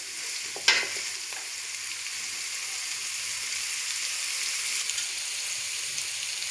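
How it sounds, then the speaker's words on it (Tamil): Chopped onions sizzle steadily in a hot pan of oil while cooking paneer fried rice, with one sharp clatter of a spoon against the pan near the start, then an even, soft hiss. "கட் பண்ணி வச்சுருக்க வெங்காயத்தை ஆட் பண்ணிக்கலாம்."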